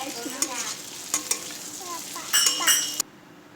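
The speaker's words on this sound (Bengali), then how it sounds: "আর পাস্তাটাকে দিয়েও কিন্তু ভালো করে সবজির সঙ্গে মিশিয়ে নেব" Pasta and vegetables get tossed in a pan, with close rhythmic scraping and clinks of the spatula over a light sizzle, building to a brisk flurry of stirring before stopping suddenly.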